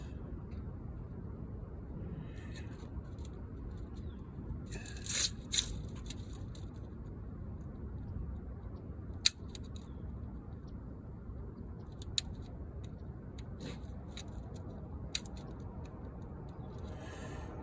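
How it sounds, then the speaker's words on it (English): Scissors trimming excess window screen mesh on a camper window, heard as faint, sparse snips and scrapes at irregular intervals against a quiet low rumble, with no talking. "I'll cut the screen after it's already in here nice and tight and it's stretched"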